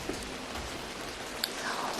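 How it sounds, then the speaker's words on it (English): Steady rain falls outdoors in Washington, a faint, even hiss of drops that runs unbroken with a few small taps. "Erica, it sounds like it's raining there in Washington."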